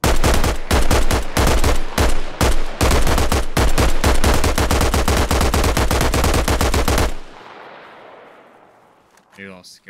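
Sustained automatic gunfire in the video game ARMA Reforger during a PvP fight between US forces and insurgents, loud rapid bursts of shots for about seven seconds, then a fading echo and quiet.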